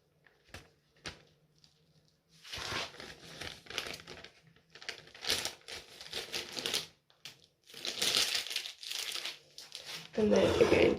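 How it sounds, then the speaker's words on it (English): Paper bag crinkling and rustling in bursts as a second bag is pushed inside it for a cupcake bouquet, close and fairly loud, with a louder crunch at the end. "to get another paper bag, and I'm just simply going to pop this one inside"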